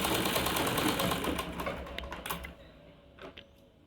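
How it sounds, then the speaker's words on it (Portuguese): A sewing machine runs a quick seam across the corner of a fabric piece, stitching in a fast, steady, close-up rattle for about two seconds, then stopping with a few light mechanical clicks. "Uma leve costura aqui no cantinho, para que a gente possa unir os dois lados."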